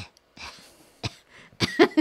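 A person nearby coughs several times in short, harsh bursts, separated by brief pauses, close and fairly loud in a quiet room.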